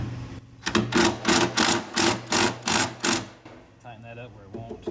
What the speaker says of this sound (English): I like to use an impact for this with a 1/2-inch socket.